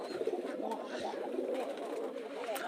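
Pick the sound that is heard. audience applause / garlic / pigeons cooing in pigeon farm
pigeons cooing in pigeon farm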